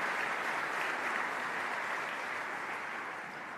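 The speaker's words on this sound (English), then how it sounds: "Yeah, that's definitely reason for applause." A crowd applauds at the IGF and GDC Awards 2018 ceremony. The clapping is dense, steady and loud, filling the room for the whole stretch and easing only slightly at the end.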